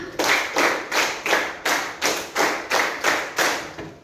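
A classroom group claps in unison to a set rhythm, two quick claps repeated in a pattern across the span, each burst crisp and close with brief gaps between, no talk over it.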